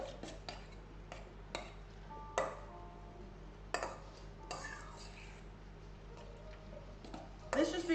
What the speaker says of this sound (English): this is just something you can take a spoon and just mix up a little bit